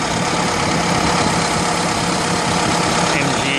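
A 1936 MG PB prewar car engine, all original, runs after an electric-starter start, giving a steady, loud, close mechanical drone with no break and no voices.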